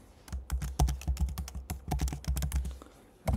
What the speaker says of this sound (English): Now I'm gonna type here Long Aquila.